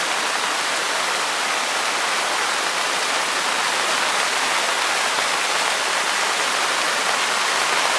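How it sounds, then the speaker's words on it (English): A waterfall near Mahabaleshwar roars with a steady, dense broadband rush of falling water that is close and loud, with no voices. "Such a beautiful waterfall."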